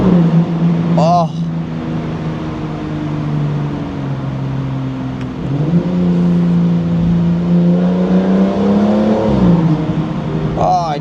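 A 2025 Aston Martin Vanquish engine drones steadily while driving through a tunnel, rising in pitch as it accelerates, heard from inside the car with a brief burst of a voice near the start and end.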